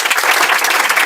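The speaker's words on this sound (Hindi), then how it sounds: "जोरदार ताली।" Students in an online physics class burst into a short, loud round of clapping, close and bright, heard on its own for about a second.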